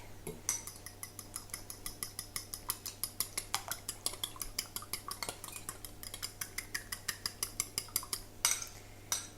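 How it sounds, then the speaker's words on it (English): An egg being lightly beaten in a bowl for cookie dough, a fork or whisk clinking against the bowl in a quick, steady rhythm of close, bright taps, with a low hum underneath. "we're just going to lightly beat that egg"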